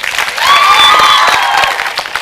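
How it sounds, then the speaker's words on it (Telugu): Loud, dense applause and cheering from a studio audience after a contestant's dance performance on a Telugu comedy show, sustained across the whole moment, with a ringing electronic tone over it. "ఒకసారి గట్టిగా క్లాప్స్ కొట్టండి"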